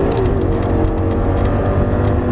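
An Audi R8 roars hard as it accelerates on a racing track, a loud, dense, sustained engine drone heard from close by with a brief shift in pitch as it upshifts.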